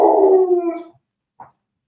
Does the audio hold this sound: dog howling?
yes